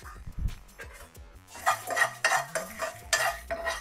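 Spices being roasted in a pan, stirred with a metal utensil: repeated close scraping and clinking strokes against the pan over a light sizzle, growing busier and denser in the second half.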